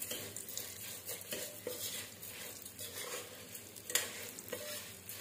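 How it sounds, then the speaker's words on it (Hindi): A spoon stirs Rajasthani Marwari wheat khichda with mung dal in a pan over a low flame, making repeated scraping strokes over a soft, steady sizzle, with an occasional clink against the pan; no one speaks. "अब इसे धीरे धीरे धीमी आंच पर हिलाते रहेंगे जब तक ये पूरा रेड ना हो जाए।"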